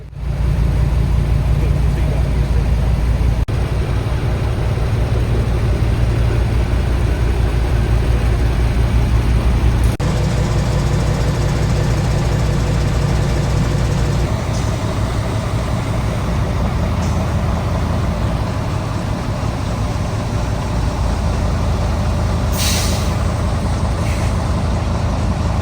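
Adam's lorry idles loudly up close while being backed up, a steady low diesel rumble with short hissing bursts from the air brakes and a brief higher squeal late on.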